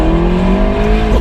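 A McLaren 650S engine revs hard and loud, a dense continuous roar with rising harmonic tones, heard up close without any talk.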